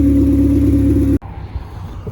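A JDM Honda Integra fitted with a custom Vibrant exhaust drones loudly and steadily up close, then cuts off abruptly, leaving a quieter, uneven rumble from the car.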